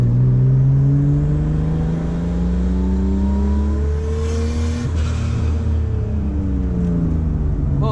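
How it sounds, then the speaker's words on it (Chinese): A Mercedes W124 drives along a road, its engine a steady, loud hum with rising and falling tones as it accelerates, heard close from inside or near the car with no talking. "现在我们就上路看看这辆车的表现如何。"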